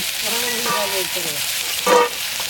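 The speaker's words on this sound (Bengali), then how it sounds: "কাঁকড়াটা অল্প সামান্য ভেজে তুলে" Large colourful sea crab pieces frying in oil for a masala crab curry produce a loud, continuous sizzle, with a voice talking over it and a brief swell of louder crackling near the end.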